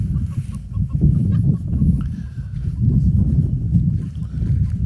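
Chickens cluck softly outdoors on a sunny day, low murmuring clucks from a few birds rising and falling continuously, with faint higher chirps in the background.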